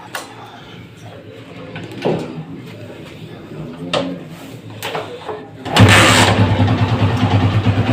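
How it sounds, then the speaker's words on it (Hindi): Honda CG 125 motorcycle from 2007, kick-started with no throttle: a few scuffs and knocks, then at about six seconds the engine catches and settles into a loud, steady idle close by. "अब बाइक को स्टार्ट करेंगे और इसका साउंड भी सुनेंगे कि इसका साउंड कैसा है।"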